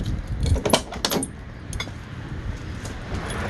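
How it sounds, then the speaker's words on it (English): A bunch of keys jangling close by in a short, bright metallic rattle, heard over a steady low rumble that sounds like vehicle or outdoor noise and continues after the jangling stops. "I grab all these keys thinking I have everything"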